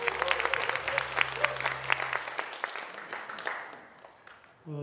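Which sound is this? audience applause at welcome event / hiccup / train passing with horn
audience applause at welcome event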